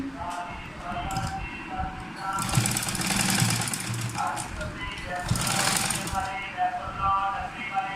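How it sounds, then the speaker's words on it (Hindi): A sewing machine runs a doubled line of stitching along a folded fabric edge, its motor whirring in two sustained bursts beneath a voice talking steadily throughout. "सिलाई को डबल करते हुए इसके ऊपर किनारी की सिलाई ऐसे स्मूथली जाते जाएंगे"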